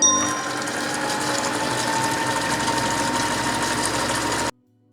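A Monsieur Cuisine Smart food processor whirs steadily while mixing mayonnaise as oil is added, a loud, even mechanical hum with a gear-like buzz that stops abruptly near the end.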